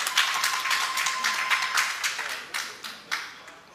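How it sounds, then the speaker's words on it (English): Crowd clapping hands at an outdoor community event in Ghana where a potable water supply project is being commissioned, a steady dense patter of many hands that thins out toward the end with a few scattered final claps. "Let's clap hands for him."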